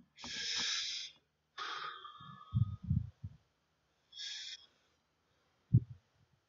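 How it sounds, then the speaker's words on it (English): Slow, deep breaths are drawn in and pushed out close to the mic in a quiet room, with a few airy hissing inhales and exhales separated by short pauses and soft low thumps. "Inhaling and taking deep breaths,"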